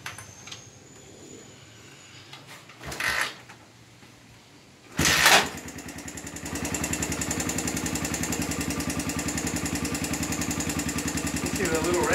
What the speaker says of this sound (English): once the bike starts to take the fuel, we'll know that it's running on the fuel.